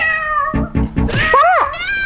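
A cat lets out a clear, drawn-out meow right after a few brief bursts of nearby human voices, the cry rising and then falling away.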